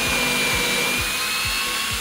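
A power drill bores into a block to make a stand for a model earth, giving a steady whining motor drone with a rhythmic low pulse from the turning bit, loud and close throughout.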